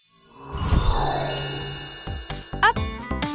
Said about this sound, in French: Un seul mot et aussitôt, la cloche sonne.